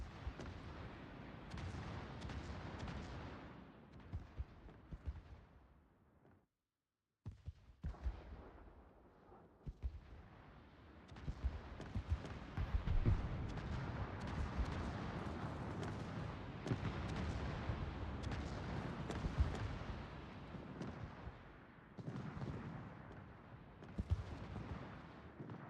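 Naval artillery fire in the World of Warships video game, a dense continuous roar of heavy booms and rumbling blasts that runs almost unbroken, apart from one brief silent gap.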